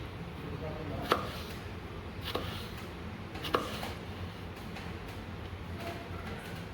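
Potatoes cut with a knife on a board for potato salad, a few sparse, faint chops spaced a second or more apart against a dull background hum, with a voice speaking quietly.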